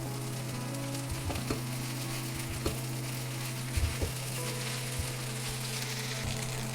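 Boiled noodles are tossed into a sizzling frying pan for chicken noodles, giving a continuous moderate fry hiss broken by a few soft utensil scrapes and taps, with no voices.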